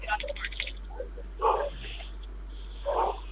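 A dog caught on a doorbell camera gives short yips and whimpering barks in small bursts, near and fairly loud. A steady low electrical hum runs underneath and faint voices come through around the calls.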